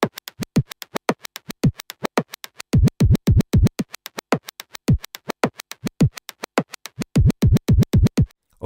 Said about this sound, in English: we are talking about scratching and filters